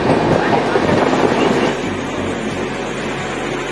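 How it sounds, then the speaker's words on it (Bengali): Train rolling into platform 2 at Ghatsila station in the rain, a loud steady rumble of wheels and carriages that eases after a couple of seconds into a lower continuous drone. "তো আমাদের ট্রেন 2 নম্বর প্ল্যাটফর্মে ঢুকছে।"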